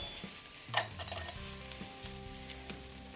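Prosciutto sizzles in a pot on lowered heat, a soft steady frying crackle with a couple of sharp clinks from stirring, close and alone without talk.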